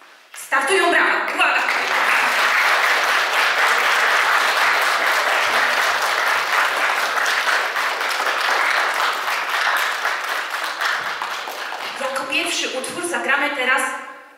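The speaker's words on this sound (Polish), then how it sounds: "Startują brawa." Sustained audience applause at a school concert, swelling in quickly and holding as a dense, steady wash of clapping for over ten seconds before fading, with brief speech heard before and after it.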